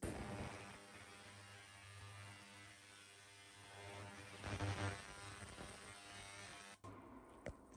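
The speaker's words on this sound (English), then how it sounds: "to degas, I hit the ultrasonic button, or the ultrasonic cleaner button, 3 times. It'll run for 5 and then turn off for 5." An ultrasonic cleaner degassing liquid while cleaning a carburettor gives a steady low electrical hum with a faint high whine that cuts off near the end, quiet and close.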